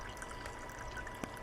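Water pours steadily into an MRE chili with beans pouch, a soft continuous trickle heard close and alone for a brief moment.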